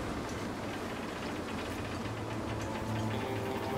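Strong wind gusting across a snowy, wintry setting by a railway in The Long Dark, a steady broadband roar that holds loud and unbroken throughout with no voices.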